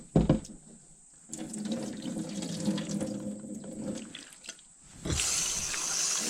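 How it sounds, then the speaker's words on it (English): Almost boiling water gushes and splashes steadily from close by over carp sashimi, pausing briefly before a louder stream resumes near the end. "You pour boiling water, almost boiling water, right?"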